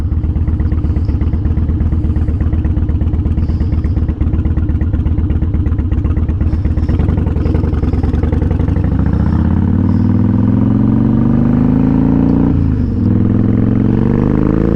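A Harley-Davidson Dyna motorcycle engine idles loudly and steadily close by, slightly high, with a throbbing rumble that wavers slightly, then briefly revs near the end.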